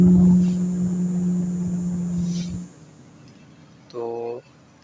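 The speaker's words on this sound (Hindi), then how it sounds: "तो ये देखिए ये हमारा पंखा फ़ैन ऑन होना शुरू हो गया।" A small electric fan motor from a hobby electronics kit runs with a steady low hum and whir for a few seconds before cutting out, followed by a brief tonal buzz.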